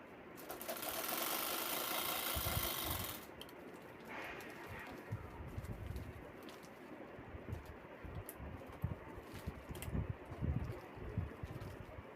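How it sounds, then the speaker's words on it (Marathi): A home sewing machine stitching fabric for a lunch-box tiffin bag runs in a loud, dense burst for about three seconds, then gives way to quieter fabric handling and faint background sounds. "असं कोपरे वळवून आपल्याला तो बरोबर चौकटीत बसवून आपल्याला ती शिलाई घ्यायची आहे"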